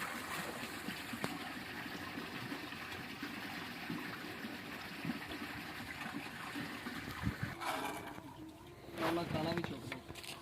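Water runs steadily at a biogas plant, a continuous broadband rush with a louder surge near the end, and voices talk over it.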